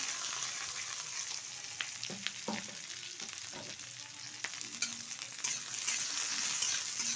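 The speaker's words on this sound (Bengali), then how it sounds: "এখন দিয়ে দেবো কুচিয়ে রাখা বেগুন আর কাঁচা লঙ্কা কিছুটা।" Chopped eggplant and green chilies frying in oil with ginger, a steady, close, continuous sizzle with occasional stirring scrapes and no talking.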